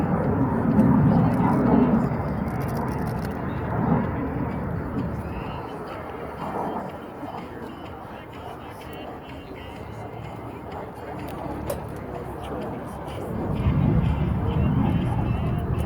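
An Alpha Jet's deep roar, without afterburners, swells, fades slightly and builds again as it passes, while a voice talks over it throughout.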